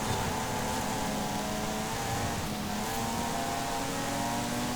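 A Mazda RX-8 rotary engine drones in Forza Horizon 5, a steady buzzing engine note held at moderate level with slight pitch shifts over a dense, noisy background.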